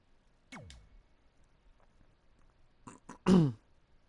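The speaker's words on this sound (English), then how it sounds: "I just cleared my throat." A person clears their throat, a short rough rasp followed a few seconds later by a louder, gruff double clearing, close and alone in a quiet room.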